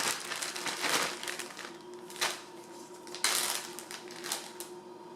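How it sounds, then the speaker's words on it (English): Beans and a little oil shaken inside a zipped plastic bag, giving a steady rustling, crinkling rattle with a few louder bursts of shaking, close up and without talk. "just zip it shut and shake, shake, shake"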